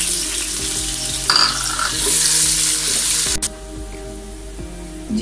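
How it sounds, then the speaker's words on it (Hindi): Onions frying in heated oil while being browned, a loud continuous sizzle close up with stirring scrapes and a sharp clatter midway, no voices. "मैं इसमें प्याज डालूँगी और उसको हल्का ब्राउन करूँगी"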